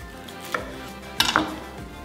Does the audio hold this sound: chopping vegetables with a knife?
yes